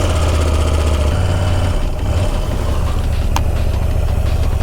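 Motorcycle idling at a campsite on an autumn trail trip, a steady close low-pitched engine rumble with a brief faint ticking click partway through.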